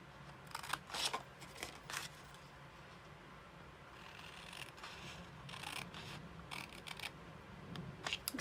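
Scissors cutting card paper along a score line, a series of crisp snipping strokes in uneven bursts, close and fairly quiet, with light rubbing between cuts.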